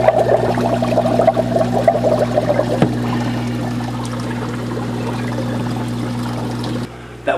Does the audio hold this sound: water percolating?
yes